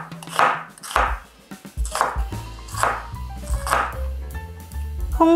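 Half an onion, core removed, cut coarsely with a knife on a board: about five distinct, fairly loud chops at a steady rhythm, each with a woody knock, alone without talk.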